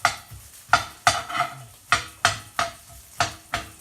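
Breakfast fried rice sizzles in a pan as a spatula scrapes and tosses it in quick, regular strokes, about ten sharp scraping bursts over a steady frying hiss.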